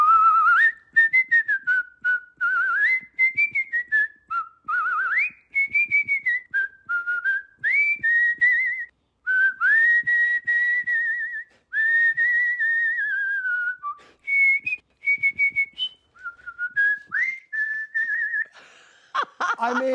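A person whistles the carol "We Wish You a Merry Christmas" solo and close up, a clear continuous melody of bright, wavering notes with brief breaths between phrases.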